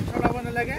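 Gusty outdoor wind buffets a microphone with low, uneven rumbling, heard close and moderately loud over less than a second.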